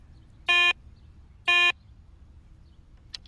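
A Garrett ACE 250 metal detector gives two brief, identical electronic beeps for a bottle cap, about a second apart, each crisp and fairly loud against a quiet background.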